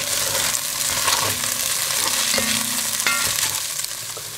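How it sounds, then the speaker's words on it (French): Onions sizzle and fry in a casserole pot for carbonade flamande, with a spoon scraping and stirring through them at intervals; steady close hiss throughout, no talking. "Les oignons saisis dans la casserole,"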